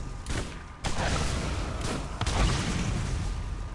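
Gunfire from another player in a Borderlands match, heard as a few muffled, moderately distant shots and bursts over a dense, noisy game background.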